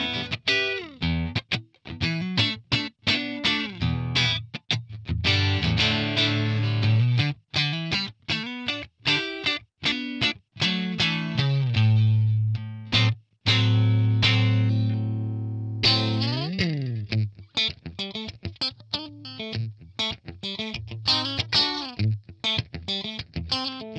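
A Stratocaster electric guitar plays through an edge-of-breakup amp capture with a noise gate and no reverb, giving a lightly driven, clean-ish tone. Plucked notes and chords ring out alone in a loose, varied rhythm with crisp attacks.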